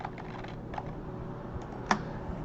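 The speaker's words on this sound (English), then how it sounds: "So I'm hitting the plus key right now, and then I'll hit the negative key" Computer keyboard keys pressed for Control plus and minus shortcuts on a Windows 7 PC: a few soft, close clicks spread over two seconds, one sharper tap near the end, with no talking.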